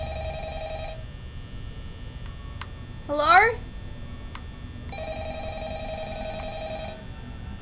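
Game telephone from Five Nights at Freddy's rings in two long bursts at the start and end, with a brief call-like chirp between them and a spoken greeting in the middle.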